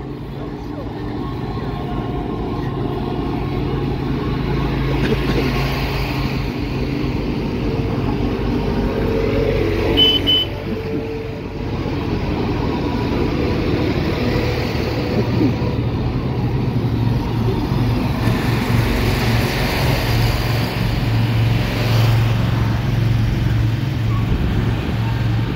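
Tractors and farm equipment drive up a hill at a farm show in Raleigh, North Carolina, a continuous low engine rumble and drone that rises and falls as machines pass, with people talking over it.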